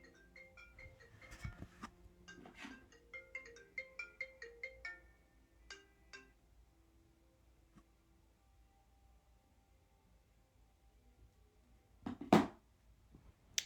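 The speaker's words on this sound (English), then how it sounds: "sorry, phone call." Phone ringtone from an incoming call, a melodic chiming pattern repeating for several seconds, followed by a quieter stretch and then a brief louder burst near the end, with no speech.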